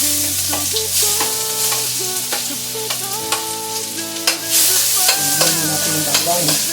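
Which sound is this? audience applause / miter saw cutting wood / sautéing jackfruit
sautéing jackfruit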